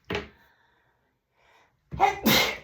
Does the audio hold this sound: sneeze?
yes